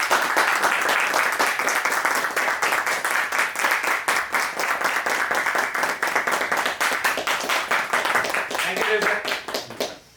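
At a gathering honouring a trainer and motivational mentor, a crowd applauds him loudly and continuously with rapid, dense hand claps, fading out only at the very end.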